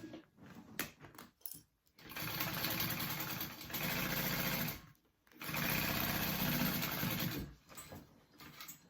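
A sewing machine basting fabric into place runs in three long steady bursts of rapid mechanical stitching, close and fairly loud, separated by short pauses with small handling clicks.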